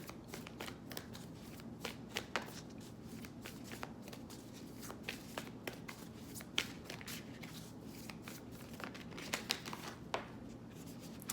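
A Moonology oracle card deck being shuffled makes soft, quick riffling and flicking sounds with scattered sharper snaps, close up and fairly quiet over nearly twelve seconds with no talking.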